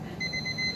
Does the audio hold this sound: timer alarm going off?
yes